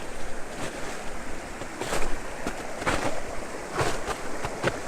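Saw Creek flowing along a forest trail, heard as a steady broadband rush of water with intermittent gusts and soft bursts, fairly close and alone without talk.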